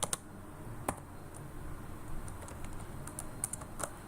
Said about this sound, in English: Now let me type an example script,